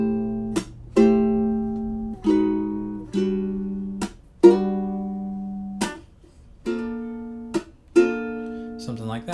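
Ukulele strumming chords with a walking-down bass embellishment on the root, each chord struck and left ringing in a slow, even rhythm, close and clear.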